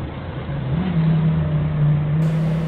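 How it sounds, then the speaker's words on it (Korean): Cars jammed on a narrow one-lane, one-way road beside an underpass, a steady close engine drone that swells slightly midway and holds without pause, no voices. "너무너무 차가 많아갖고 지금도 여기 꽉 막혀있죠. 제 뒤로도 차 잔뜩 꽉 막혀있답니다."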